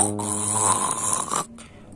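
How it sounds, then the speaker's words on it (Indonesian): A cartoon Ultraman character gives one drawn-out, loud nasal snore lasting over a second, a voiced rattling inhale that ends with a short breathy trail. "baru tidur udah ngorok nih"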